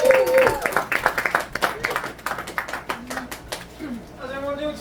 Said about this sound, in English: Please put your hands together, make some noise, go crazy for Mr. Tommy J.